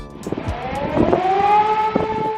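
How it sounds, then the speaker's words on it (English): An air raid siren sounds in Chernihiv, Ukraine, during the wartime siege: a steady wailing tone holds and slowly rises over a low, rumbling outdoor background, with no talk. "And you never escape the air raid sirens here."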